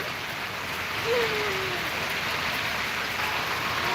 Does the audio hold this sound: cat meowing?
no